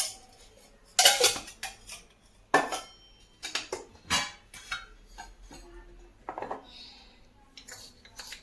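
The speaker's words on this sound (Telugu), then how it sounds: "స్టవ్ ఆన్ చేసి ప్యాన్ పెట్టుకున్నానండి. ఆయిల్ వేసుకుందాం." A metal pan clanks onto a stove in a few sharp, close knocks, followed by lighter rattles and taps from the pan and utensils as oil is added.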